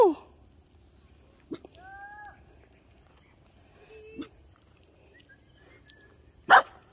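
A dog barks a few scattered times outdoors on a farm, sharp isolated yelps over steady insect chirring, with some faint voices.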